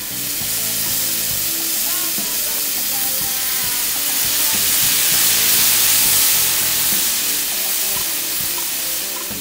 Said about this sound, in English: Now for the venison, we're going to heat up some olive oil. The pan is hot and ready for the venison.